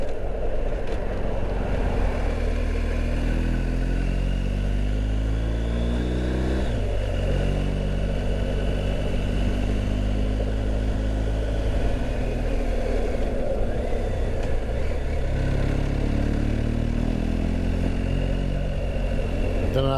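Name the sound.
new motorcycle engine running on the road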